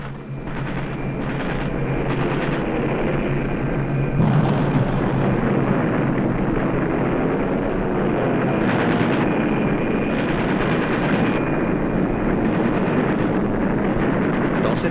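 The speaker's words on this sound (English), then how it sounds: "We are flying over Smolensk." A wartime aircraft flying over Smolensk, a loud, steady engine roar with rumbling bursts that continues throughout.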